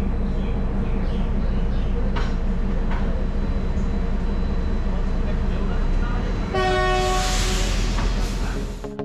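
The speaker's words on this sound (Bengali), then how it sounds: "ফাইনালি আমরা আমাদের ড্রিম ট্রিপ টয় ট্রেনে করে দার্জিলিংয়ের উদ্দেশ্যে।" Darjeeling toy train pulling away, a loud rumbling engine and rolling clatter close by, then a long, piercing horn blast near the end, with people talking over it.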